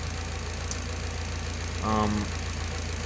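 Nissan SR20DET engine in a 240sx S13 idles rich, a steady low rhythmic thrum with a slight knock-like pulse and a brief louder surge near the end.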